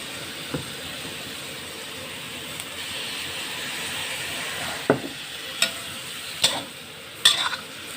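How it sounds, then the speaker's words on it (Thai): Chili stir-fried in a pan with a little water, fish sauce, white sugar and oyster sauce gives a steady sizzling hiss, punctuated by a few sharp spatula scrapes and knocks close by. "แล้วก็ผัดให้เข้ากันอีกนะคะ"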